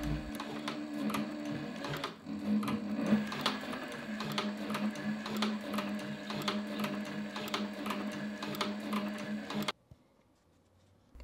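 A Cobra Class 4 leather sewing machine stitches through scrap leather, a close steady run of rhythmic mechanical thumps that shifts in pace as stitch length changes, then stops abruptly into near silence.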